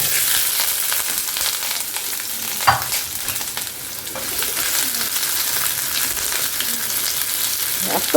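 Biryani sizzling and frying in a pot on a home stove, a continuous loud hiss with occasional stirring clatters and scrapes.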